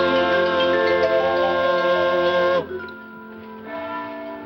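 Church bells ring in a rich, sustained peal of layered tones, loud and close, then the sound drops abruptly and a quieter ringing resumes near the end, with no talk.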